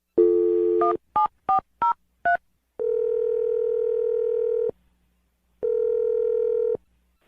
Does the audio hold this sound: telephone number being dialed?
yes